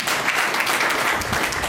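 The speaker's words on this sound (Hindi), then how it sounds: "लगातार तेज तालियां होनी चाहिए" A crowd at a political welcome reception in Udaipur claps briskly and continuously in a short, dense burst without voices over it.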